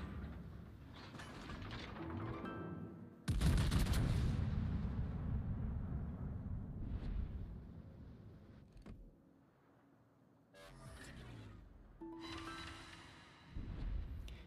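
Heavy battleship gunfire in World of Warships, a Tier 10 British Thunderer battleship among German ships: a loud booming salvo with a long rumbling tail, followed by further blasts and mechanical creaks, and another sharp report at the end.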